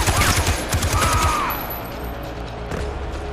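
Rapid automatic gunfire from a new weapon in the video game Far Cry 4, a dense burst of sharp shots over the first second and a half, then mechanical clatter and ambient game noise.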